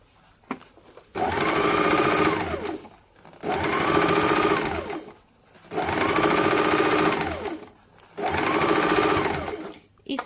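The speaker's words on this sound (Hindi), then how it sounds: "अब पूरे में साइड के गोलाई से सिलाई चला देंगे।" A sewing machine stitches around the curved side of a designer boat-neck princess-cut blouse in four steady motor runs of about two seconds each, separated by brief pauses, loud and close.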